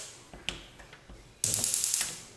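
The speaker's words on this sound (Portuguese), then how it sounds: "Vamos dar partida no fogão." A household gas stove being lit in a home running on backup battery power, heard as faint scattered clicks followed by a sudden, steady hissing rush punctuated by rapid ignition ticks.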